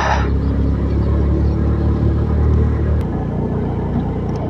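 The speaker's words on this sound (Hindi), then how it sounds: "स्कूटर को खींचने नहीं मांगता है, बट फिर भी स्कूटर खींच रहा है जैसे तैसे," A scooter carrying a pillion rider labors up a steep mountain road on the ride from Guwahati to Tawang. Its engine drones loud and steady, then the pitch drops partway through as it strains on the climb.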